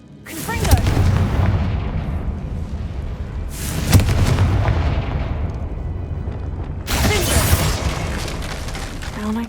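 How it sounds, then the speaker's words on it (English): Three loud, booming blasts from the Confringo fire spell in Hogwarts Legacy, each a sharp explosive burst that rumbles and decays for a couple of seconds, arriving at roughly 0.5, 3.8 and 7 seconds with no speech. "Confringo!"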